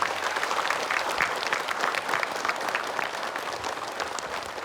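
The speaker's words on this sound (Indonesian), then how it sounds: "Bapak Ibu boleh kita berikan tepuk tangan untuk Ustadz Dani." An audience claps for Ustadz Dani in a studio-style gathering, steady, fairly even applause from a moderate crowd, moderately loud and continuous with no talk over it.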